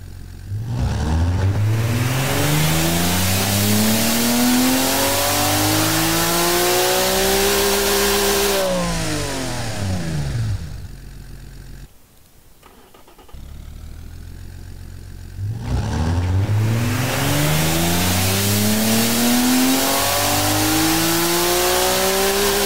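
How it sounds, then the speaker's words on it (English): A loud racing engine in a car-building video game revs repeatedly up to its limiter, rising in pitch with a brief drop and pause before climbing again. "let's hear this almighty beast sing all the way up to its rev limit"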